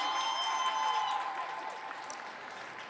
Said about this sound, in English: Y'all give Michael a round of applause.